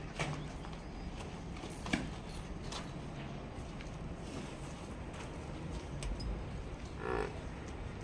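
Water buffalo lowing calls rise briefly from a noisy farmyard, with hoof clatter and general livestock commotion throughout.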